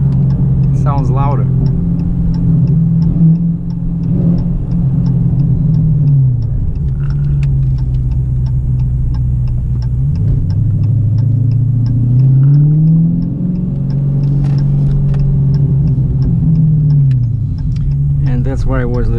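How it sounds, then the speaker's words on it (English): A 2018 Dodge Challenger 392 V8 with a modified PCM burbles and rumbles through its exhaust while driving, a steady low drone with gentle rises in revs, and a person speaks over it. "My exhaust sounds now."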